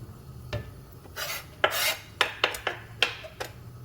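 A spoon stirs mushrooms and garlic in olive oil in a pot, giving a series of close scraping and clinking strokes in an irregular rhythm over a low background hum.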